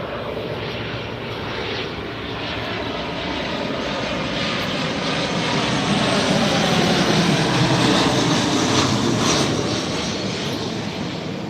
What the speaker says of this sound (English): This is coming in from Atlanta, Southwest Flight 254, 737.